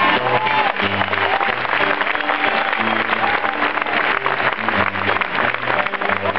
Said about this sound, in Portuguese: palmas, palmas.